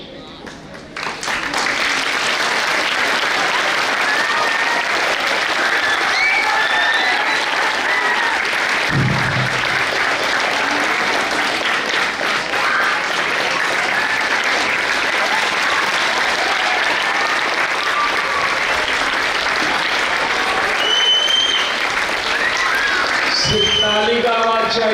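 Sustained applause from an audience at a school annual prize distribution ceremony, steady and loud for the whole stretch, with some crowd noise mixed in.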